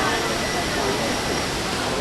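Wulai waterfall in Taiwan gives a steady, dense broadband rush of falling water, loud and unbroken throughout, with someone talking over it.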